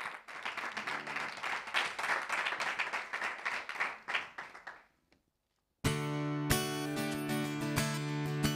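An audience claps for about five seconds at a live music presentation, dense applause that swells and then thins out before a short silence, after which music begins.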